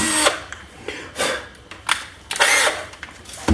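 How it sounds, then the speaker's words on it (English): Power drill fitted with a dull bit, whirring in short, uneven bursts with brief pauses between them, close and fairly loud in a garage. "I'm starting to feel like I maybe chose a dull drill bit."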